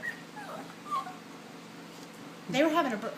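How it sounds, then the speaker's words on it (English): Dogs whimper and yip softly indoors in a few brief, high whines, then a louder, closer whimpering cry near the end, over a quiet room hum. "It's just the dogs."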